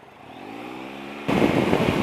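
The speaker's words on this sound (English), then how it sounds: "That is a lovely, lovely engine." A Triumph Explorer XC motorcycle with a triple-cylinder engine, riding along with a rising engine drone that suddenly opens up into a louder, rougher roar partway through.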